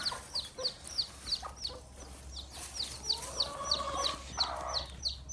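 A broody hen clucking in short repeated calls among other chickens, with a low steady hum underneath and no talk.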